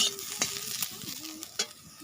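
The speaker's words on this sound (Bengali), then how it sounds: "এই যে অল্প করে দুটো আলু ভেজে দিচ্ছি" Potatoes frying in oil, a soft, fairly quiet sizzle close by, broken by a few sharp ticks and scrapes of a spatula against the pan.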